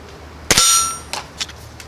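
A pellet from a Gamo Swarm Fusion 10 Gen 2 air rifle strikes a metal silhouette target at a distance, giving one sharp ringing clang that decays over about half a second, followed by a few faint metallic taps.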